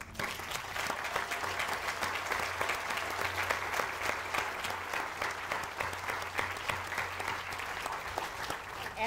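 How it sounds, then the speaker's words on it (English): Outdoors at an annual garden party, a crowd applauds frontline care staff with continuous, moderately loud clapping that holds steady for several seconds. "I'd also like to get a round of applause for the frontline staff of the Moore Center"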